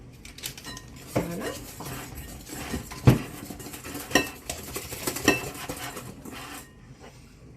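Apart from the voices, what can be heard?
mixing sugar and egg in a bowl for crêpe batter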